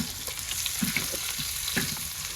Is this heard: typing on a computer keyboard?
no